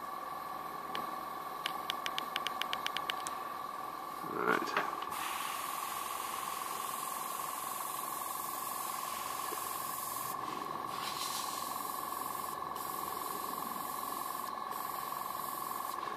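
An airbrush spraying paint onto a scale model gives a steady close hiss of air that runs nearly the whole time, preceded by a quick series of small ticks and a brief louder rush.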